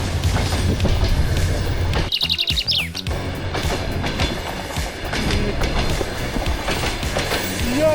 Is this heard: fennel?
no